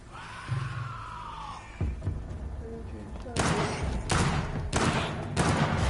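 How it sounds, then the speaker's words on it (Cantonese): Gunfire in the video game Vampyr, four loud, sharp shots spaced about half a second to a second apart near the end, after a stretch of game sounds and muffled thuds, with a person talking. "跟住用開槍射佢"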